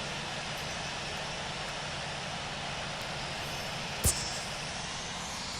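A Southwest Boeing 737-700 taxiing slowly in the Infinite Flight simulator, its jet engines giving a steady, even roar that never changes, with one brief click partway through.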